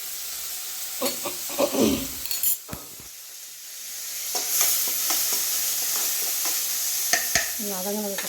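Chopped onion, garlic and ginger hit hot oil with popped mustard seeds and sizzle steadily, with a few clinks and stirring scrapes of a utensil against the pan.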